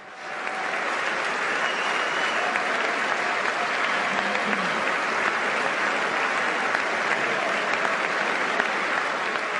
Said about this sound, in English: the president walking into the congressional chamber to thunderous applause